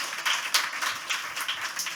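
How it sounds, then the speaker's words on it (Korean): A church congregation applauding during a Sunday sermon: scattered, fairly quiet hand clapping with irregular bursts for a couple of seconds and no talking. "박수 한번 쳐주시죠."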